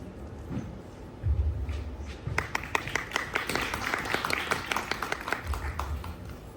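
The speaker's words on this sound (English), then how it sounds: "That applause was a little, I don't know, I didn't feel all that welcome." Scattered clapping from a small crowd, rising into a short burst of applause with sharp, uneven claps, heard from some distance in a quiet room.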